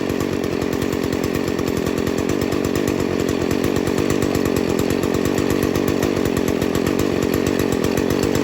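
A Stihl FS 40c weed eater engine idles during carburetor tuning, a loud, steady, buzzing two-stroke drone with an even rapid pulse running unbroken from start to finish.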